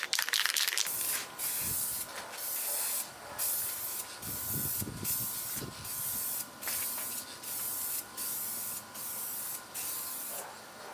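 A 2K clear top coat is sprayed from an aerosol can onto automotive or motorcycle parts: about nine close, loud hissing bursts with short pauses between them, and faint clatter underneath.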